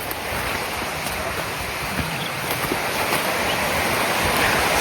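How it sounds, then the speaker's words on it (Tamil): Steady broadband rushing of a waterfall heard from above near Echo Rock viewpoint, Coonoor, in the Nilgiris, a constant wash with no breaks; faint wind mixed in. "கைஸ் கீழே சவுண்டு கேட்குது. எனக்கு தெரிஞ்சு கீழே ஃபால்ஸ் இருக்குன்னு நினைக்கிறேன்."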